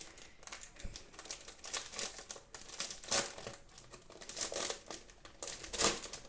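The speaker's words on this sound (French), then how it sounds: "Donc ce que je vais faire, c'est je vais déballer le truc." Packaging being unwrapped from a Ninjago Dragon Rising book, a steady run of close crinkling and crumpling plastic with sharper rustling bursts throughout, no talking.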